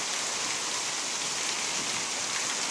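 Heavy rain from tropical storm Pabuk pours steadily outdoors in Thailand, a dense, constant loud hiss with no breaks.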